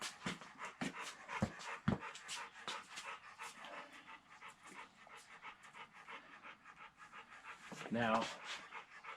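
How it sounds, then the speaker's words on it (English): A dog named Jake pants rapidly and steadily close by in a garage during a 1978 Camaro restoration, a quick breathy rhythm with a brief whimpering whine near the end. "we have mouth breather over here, Jake, who can't stop panting because she's here"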